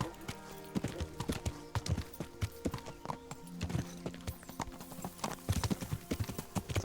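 Horse hooves clip-clop unevenly on ground in Kingdom Come: Deliverance, a close, irregular run of hoof strikes with a few stumbling bursts, heard alone without talk.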